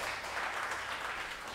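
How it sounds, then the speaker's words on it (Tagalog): A church congregation applauds for Jesus, a dense, even wash of clapping that holds steady for a moment, heard from the room at moderate volume. "bigay mo yung the best na palakpak para kay Jesus"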